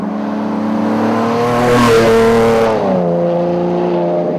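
A Ferrari Enzo's V12 engine revs up, its harmonic whine climbing to a loud peak and then dropping back to a steady, lower drone, heard up close.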